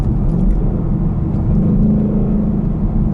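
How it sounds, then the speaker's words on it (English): A Ford Mustang GT 5.0 V8 heard from inside as it downshifts with automatic rev-matching, a loud, continuous deep engine rumble with a slight rise in pitch partway through. "for example from third to second, listen, auto rev match, perfect."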